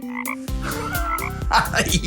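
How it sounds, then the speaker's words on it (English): A frog croaking loudly and up close in a continuous run of throaty, rhythmic croaks. "Yes, this is a frog."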